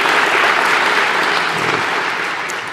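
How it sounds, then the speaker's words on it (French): A conference audience bursts into dense, sustained applause for volunteers and organizers, loud and even before gradually tapering off near the end, with no talking over it. "je pense qu'il convient d'applaudir ces personnes"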